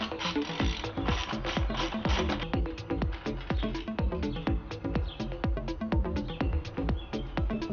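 A hand ratchet clicks rapidly and repeatedly while loosening fasteners on the coil covers of a 10th-generation Honda Civic or Accord engine, close and crisp, in bursts of steady pawl ticking with no talk.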